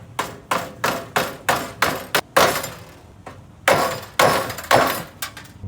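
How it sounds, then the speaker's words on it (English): Sharp metallic taps of a hammer bending a flat metal tab over while building a computer cooling system, about a dozen close, loud strikes, first in a quick even run and then in spaced heavier pairs, with no talk. "Now we're gonna take this flat edge and just tap it over."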